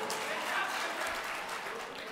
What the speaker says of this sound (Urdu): ایک بار زوردار تالیوں سے احسن علی احسن کو بتائیے کہ آپ انہیں سن رہے ہیں